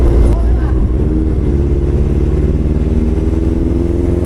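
Honda CB400 motorcycle engine idling close by with a rough, uneven misfire after a week of sitting unused, a steady low throbbing drone running through the whole stretch.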